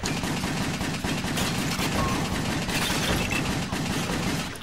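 Rapid continuous bursts of video game pistol gunfire crackle without pause in Wet on PS3, dense and harsh, filling the whole stretch like sustained shooting.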